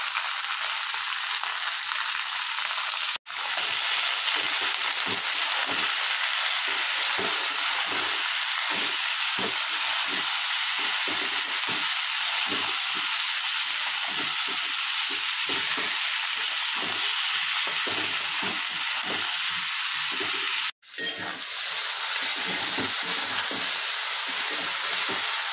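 Mixed vegetables for winter chowmein sizzle and hiss steadily in a hot pan, with frequent scraping stir strokes. The loud, continuous frying runs for about 25 seconds and drops out briefly twice.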